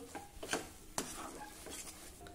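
Kesar coconut barfi mixture with ghee and cardamom powder is stirred in a pan over low heat, giving faint, soft scrapes and a couple of light knocks of the spoon.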